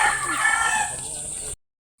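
A rooster crows loudly and close by at a backyard poultry farm, with hens clucking around it, and the sound cuts off abruptly after about a second and a half.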